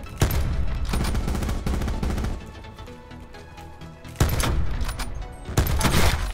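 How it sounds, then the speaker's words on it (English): Loud bursts of gunfire in Call of Duty Blackout, several sharp volleys separated by brief lulls, heard close with no talking. "Shots."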